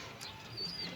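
Pet pigeons give a soft coo with a faint high chirp, close and quiet, alone for about a second.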